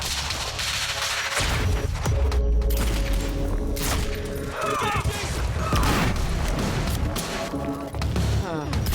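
Grenade blast and gunfire in the Quantum Break video game, with heavy booms and rattling shots in a chaotic combat mix, with voices shouting over the action.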